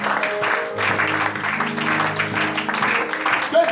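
Church congregation applauding and cheering during a French-language sermon, a steady wash of clapping with voices and musical tones underneath.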